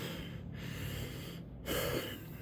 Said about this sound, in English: Sorry for all the heavy breathing.